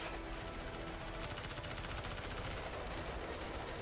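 Rapid gunfire from a Ubisoft video game trailer, a dense continuous burst of shots running steadily throughout at a loud, even level with no pauses.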